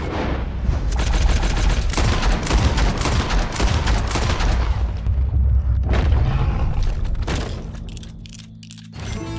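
Rapid gunfire bursts in Red Dead Redemption 2, a loud fusillade of overlapping shots and booms that fades into quieter trailing sounds near the end.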